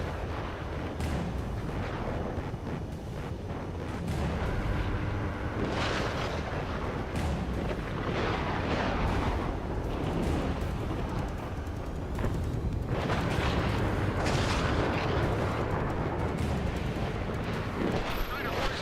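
Missiles and explosions rumble through an Ace Combat 7: Skies Unknown air battle, a dense, continuous roar of booms and blasts with a few louder bursts, while voices talk over the combat.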